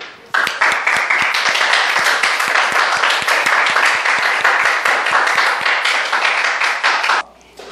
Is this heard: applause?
yes